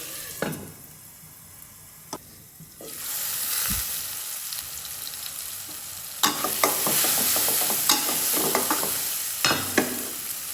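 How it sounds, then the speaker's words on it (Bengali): Ground shrimp and onion sizzle steadily in a hot pan, with a few sharp scraping and stirring clatters breaking through the frying hiss. "পেঁয়াজের সাথে একটু ভাজা ভাজা করে নেব"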